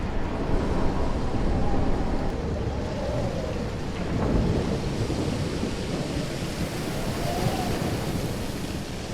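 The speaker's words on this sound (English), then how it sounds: "More storms." Thunderstorm in Life is Strange, with continuous heavy rain and wind roar and low rolling thunder swelling a few times, loud and steady throughout with no pauses.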